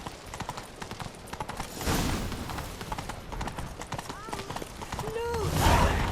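A horse gallops under its rider in The Witcher 3, its rapid clip-clop hoofbeats steady and close, with a brief whinny near the end and game voices over the top.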